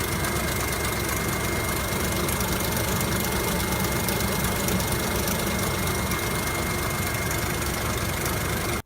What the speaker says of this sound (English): the timing chain guides are really bad. They're completely gone and the chain's just slapping around.